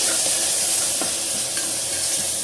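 Tomatoes stirred in a pot of sambar, a steady sizzling, bubbling cook with soft scraping strokes of a spoon, close and continuous with no talking.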